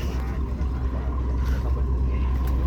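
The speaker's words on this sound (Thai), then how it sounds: "นั่นคือแพยนนะฮะกำลังเดินไปแล้ว" Engineless raft ferry loaded with cars and motorcycles moving along the Chao Phraya River, giving a steady, continuous low rumble of water and hull with no break.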